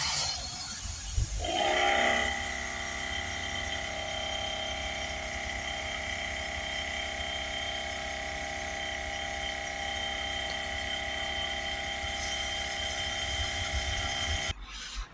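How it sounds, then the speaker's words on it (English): Air compressor running steadily with a Launch DPF cleaning gun connected by hose, used on a Land Rover Discovery Sport 2.0d Ingenium; a brief burst near the start, then a loud continuous hum and hiss throughout. "that's the compressor there with the DPF gun connected up to the hose"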